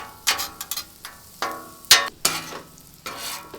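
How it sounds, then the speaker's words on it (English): Onions sautéing in butter on a griddle, with soft sizzling broken by a series of crisp scraping and tapping strokes from a spatula, about a dozen at an irregular rhythm, close and clear. "Probably helps if you get all the onions on the griddle."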